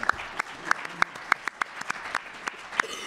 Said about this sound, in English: you could clap to that